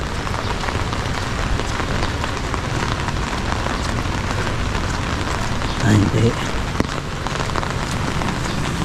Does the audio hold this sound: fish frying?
no